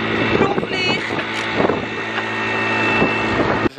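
Wind buffets the microphone outdoors in a park at a festival, a loud continuous rumbling roar that runs throughout with voices faintly mixed in.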